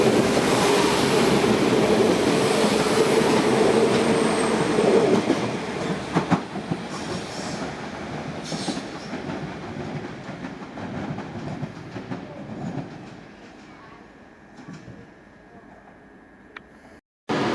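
A Northern passenger train pulling out of Preston station, with a loud, steady rumble and clatter of wheels on rails that slowly fades as it moves away.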